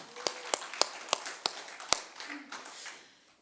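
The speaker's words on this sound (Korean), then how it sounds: "함께 영광의 박수 올리겠습니다" Sparse, sharp claps from a church congregation during an Easter Sunday service, about six distinct hand claps spaced roughly every third of a second, fairly close and clear, fading into quiet room tone.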